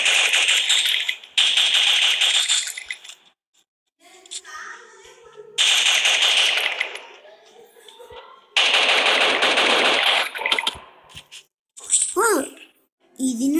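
Rapid automatic gunfire from an unlimited gun in a mobile shooter game comes in several loud, dense bursts lasting one to three seconds, broken by short gaps and game sound effects, with a voice talking between them.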